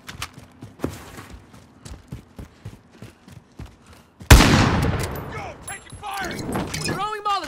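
Bursts of shooter video game gunfire, a string of sharp shots followed by a loud close blast and sustained firing, under excited voices talking.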